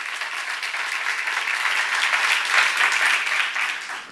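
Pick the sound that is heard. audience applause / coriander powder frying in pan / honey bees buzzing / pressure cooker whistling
audience applause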